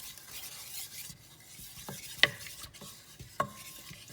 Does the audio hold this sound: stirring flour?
yes